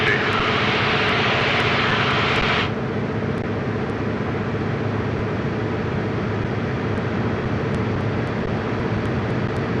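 An AT-6 Texan's radial engine drones steadily in flight through a loop manoeuvre, a loud, continuous roar heard from the cockpit, with an added hiss of wind noise in the opening seconds that then drops away.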